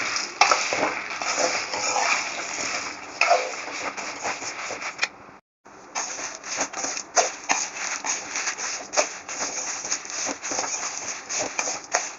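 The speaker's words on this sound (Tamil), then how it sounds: "ஒரு 5 நிமிஷம் அளவுக்கு இதை நல்லா நம்ம வறுத்து முறுமுறுப்பாக திரிக்கிற பக்குவத்துக்கு இதை நம்ம வறுத்து எடுத்துக்கணும்" Whole spices dry-roasting for sambar powder in a pan, stirred continuously with a steady dry rattling and scraping, close and fairly loud, with a brief gap partway through.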